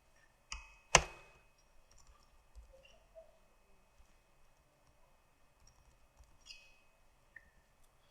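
Mouse clicks and keyboard typing at a computer running SolidWorks CAD software, a sharp cluster of clicks near the start followed by sparse, faint light taps in a quiet room.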